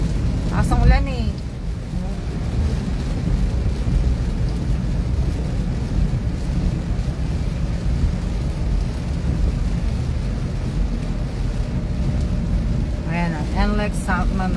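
Steady heavy rain roars on the NLEX expressway as a constant wash of noise, with brief voice fragments at the start and end.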